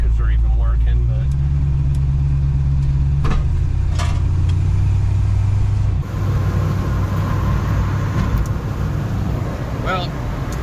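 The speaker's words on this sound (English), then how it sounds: "here I am driving the Camaro out to Doug's house" A Chevrolet Camaro's engine drones loud and steady from inside the cabin while driving, a low rumble that shifts slightly partway through, with road noise. A voice speaks over it.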